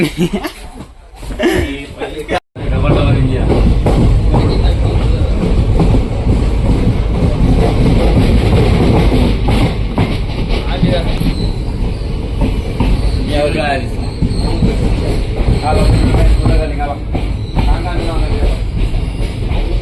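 A passenger train on the Chikmagalur–Shimoga route near Birur Junction rumbles steadily with rattling wheels and clatter, loud and close, while people talk over it and someone chuckles.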